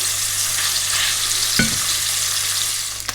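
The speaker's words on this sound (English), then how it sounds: "They're browning off nicely there." Beef meatballs browning in a pan, a dense, steady hiss of sizzling fat throughout, close and fairly loud, with one brief knock of a utensil midway.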